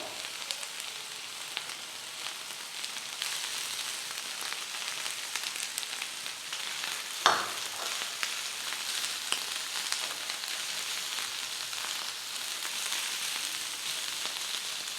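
Shredded chicken and green, red and yellow bell peppers fry in a pan with a steady, soft sizzle throughout, broken once by a brief clatter of stirring midway.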